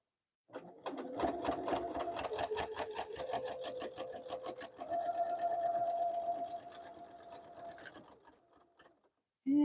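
A sewing machine stitches the side seam of a zipper pouch with a couple of back stitches, a steady close whirring run of about seven seconds that then stops, followed by a brief knock.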